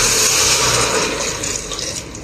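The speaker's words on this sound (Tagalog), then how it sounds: "Yan, lagyan ko ng tubig." Water poured into a pan of sautéed patola (sponge gourd) for miswa soup, a loud, close, continuous rushing splash that tapers slightly toward the end, with no talk.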